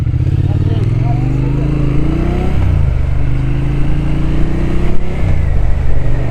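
A 2025 Triumph Speed Twin 1200 motorcycle pulls away, its engine revving up through rising gear pitches, then shifting and climbing again, loud and close before easing off.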